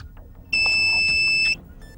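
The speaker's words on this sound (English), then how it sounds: "You should hear a longer beep confirming the operation." Single long, steady electronic beep from a Viofor JPS device confirming saved settings, a clear tone lasting about a second and standing alone above a quiet background.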